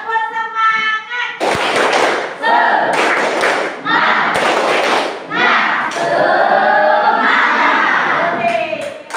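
Schoolchildren in a classroom repeat a rhythmic clapping chant, sharp unison claps and thumps punctuating loud group chanting in a steady pattern, close and energetic, after a brief spoken cue.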